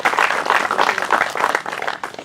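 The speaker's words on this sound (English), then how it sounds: "We really need to applaud them." Audience applause at a memorial pylon ceremony: a steady, dense patter of many hands clapping together, sustained and fairly loud throughout, easing slightly toward the end.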